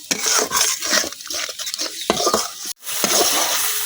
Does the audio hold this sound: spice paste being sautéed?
yes